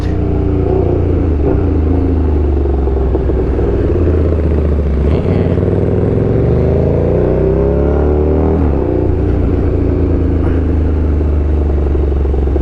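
A KTM Super Duke big-bike engine runs close by with a loud, steady rumble, its revs rising and falling in several swells, one after another.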